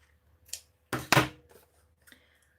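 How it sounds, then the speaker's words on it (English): Scissors snipping loose threads on a vintage baby junk journal, a few short crisp cuts close by with a couple of faint clicks around them. "I'm gonna cut these threads off"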